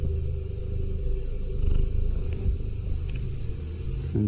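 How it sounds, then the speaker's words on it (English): A cat purrs close to a bedroom CCTV camera, a steady low rumbling purr that continues evenly throughout, with faint background hiss and no talking. "Can you hear the cat?"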